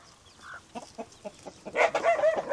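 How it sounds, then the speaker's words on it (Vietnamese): A hen clucks from inside a nest on a rural Vietnamese homestead, several soft separate clucks at first, then a louder, denser run of clucking near the end. "Con gà mái nó đang để ở trong kia ăn ấp"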